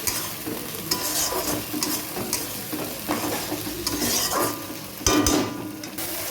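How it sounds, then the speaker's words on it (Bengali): Masala paste with turmeric being stirred in a hot pan, a steady close sizzle and fry with spoon scrapes and occasional clinks throughout, no talking. "মশলা দিয়ে দিয়েছি হলুদও দিয়ে দিলাম ভালো করে কষিয়ে নেব মশলাটা"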